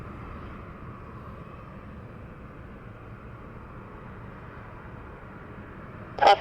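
Alaska Airlines jet heading for Kona on a San Diego runway, a steady broad engine roar held at moderate distance throughout, with a sharp brief burst of higher noise right at the end.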